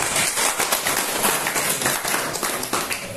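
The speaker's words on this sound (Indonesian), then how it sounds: "Jadi tepuk tangan untuk bapak-bapak." Crowd applause at a community gathering in Semarang, a dense, continuous patter of many hands clapping at close range, with no talk over it.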